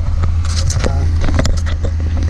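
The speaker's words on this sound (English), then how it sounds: "Let her idle, run that" A 2016 Ram 1500 pickup with a 5.7L Hemi V8 idling close by, giving a loud, steady low rumble with some clicks and rattles over the top.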